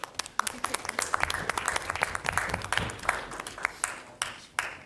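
A small audience at a student alliance meeting gives a round of scattered, uneven clapping, close and light, with a voice briefly heard over it.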